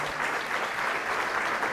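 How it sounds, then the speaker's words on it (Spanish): Congregation in church breaking into applause, a thick, uniform wash of clapping from many people, steady and fairly loud across the whole short stretch with no speech over it. "Fuertes aplausos al Rey de Reyes y al Señor de Señores."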